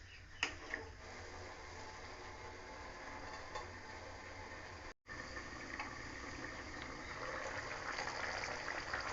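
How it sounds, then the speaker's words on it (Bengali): Potol gravy boils in a covered pan, giving a faint, steady bubbling simmer with a few soft lid ticks and clicks, heard alone and close. "ঝোলটা ফুটে উঠেছে।"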